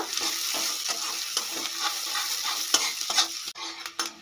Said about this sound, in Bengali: পেঁয়াজটাকে হালকা ব্রাউন কালার করে ভেজে নেব